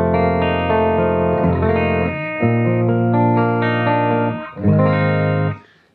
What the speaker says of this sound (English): what we're listening to right now is just the 67 reverb, the cabinet emulation, and the microphone emulation